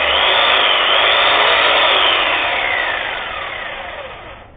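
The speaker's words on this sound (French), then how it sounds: "vous l'avez vu en action la scie électrique" Electric saw running loud and close, a dense steady whine and grind that holds strong for a few seconds before easing down in level toward the end, heard alone without any talk.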